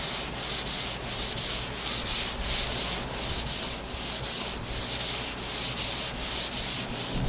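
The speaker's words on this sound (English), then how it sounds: "I'm going to go over with 220 grit." A guide coat is sanded with 220 grit sandpaper, steady back-and-forth rasping strokes in an even, quick rhythm, loud and close, with no talk.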